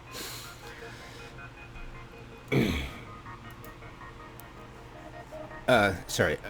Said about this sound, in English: that coughing fit just blew my mind